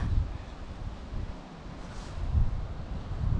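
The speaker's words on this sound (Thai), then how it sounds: "ช่วงนี้ลมจะกระโชกแรงนะคะ" Strong gusting wind outdoors in an orchard of apple trees in Finland, a steady rumbling buffet on the microphone that swells and eases in gusts, with no talk.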